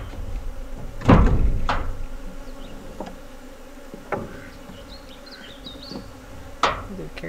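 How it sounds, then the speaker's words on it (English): Honeybees buzz around hive frames on an off-grid homestead hive, with steady low insect hum and a few knocks and bumps as the frames are handled, fairly close. "See all those bees?"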